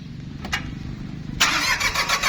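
A Japanese-imported farm tractor engine cranks with a low rumble and a couple of short clicks, then catches at once and runs loud and rough, close by, with no one speaking.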